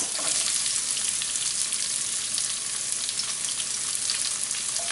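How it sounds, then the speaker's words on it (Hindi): Onions sautéing in a pan for a lauki kofta curry, giving a steady, dense sizzle and crackle of frying that holds at an even level throughout, close up, with no voices. "और इसको भी हम अच्छे से सौटे कर लेंगे। अब हम डालेंगे प्याज"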